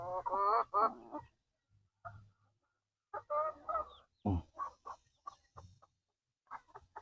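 Rhode Island Red roosters and native chickens on a small farm cluck and call in several bursts separated by short pauses, fairly close and moderately loud, with no talk.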